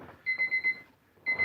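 Alarm clock ringing indoors with rapid electronic beeps in a burst of four, a short gap, then the beeping starts again, loud and near.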